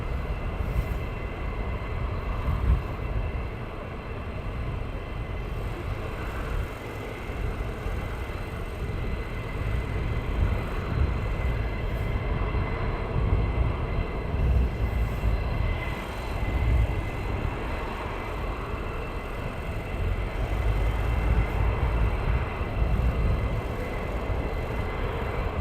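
A military jet takes off at RAF Lakenheath, a sustained distant roar with broad rumble that swells and lingers evenly for the whole stretch, with no voices over it.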